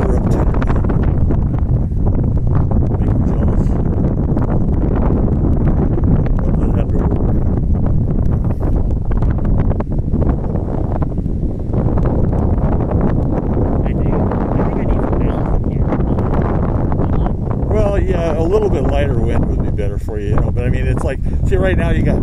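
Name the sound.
wind blowing on hilltop while flying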